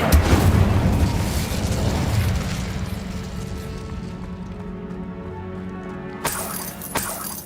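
Incendio fire spell blast in Hogwarts Legacy, a loud roaring burst that fades over several seconds, then a sharp crack and a smaller pop near the end.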